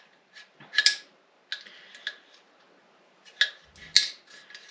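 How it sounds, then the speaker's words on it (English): An AR-15 charging handle slides into the grooves of the upper receiver, giving several sharp metallic clicks and scrapes in separate bursts with quiet gaps between, close up and with no talk. "So you'll take your charging handle, and there's going to be 2 little grooves in your receiver that will slide into."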